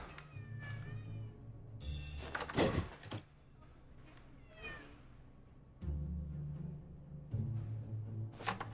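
Cartoon cat meows several times in South Park: The Fractured But Whole, short plaintive calls with one drawn-out yowl, set over quiet game ambience and low musical hum, with a sliding door thump nearby.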